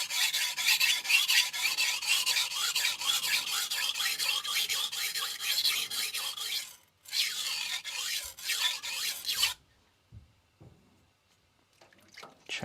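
A steel knife blade rasped against a 400 grit sintered diamond stone to remove the burr, a fast rhythmic scraping of repeated short strokes close up that pauses briefly, resumes, then gives way to a few quiet handling taps.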